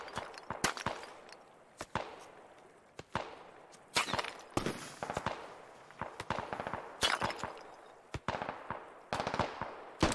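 Rifle fire in the military shooter game Squad near a bridge, sharp single shots and short bursts cracking out irregularly, some close and loud, others with echoing tails, with no talk over them.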